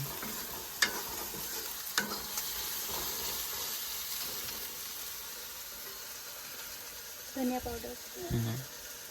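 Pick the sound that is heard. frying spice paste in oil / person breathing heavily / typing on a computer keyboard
frying spice paste in oil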